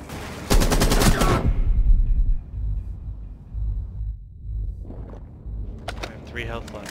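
Loud, close bursts of automatic gunfire in Rainbow Six Siege open the exchange, then fade into low rumbling game ambience with scattered clicks and a few sharp hits toward the end.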